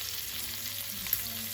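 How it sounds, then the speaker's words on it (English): Bacon and garlic fry in a pan on a cooker for carbonara, a steady close sizzle and crackle with one small pop, no voices. "our bacon frying up nicely"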